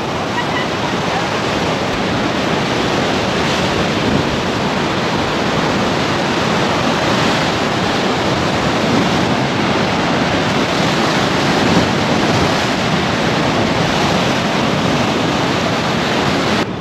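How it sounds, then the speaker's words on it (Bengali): Rough sea surf crashes onto the shore at a seaside spot, a loud and continuous roar of breaking waves mixed with wind buffeting the microphone. "আর এই হচ্ছে উত্তাল সমুদ্র।"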